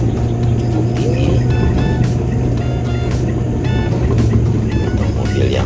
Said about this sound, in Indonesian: Untuk mobil yang cc-nya kecil kayak ini ya mesti harus tancap gas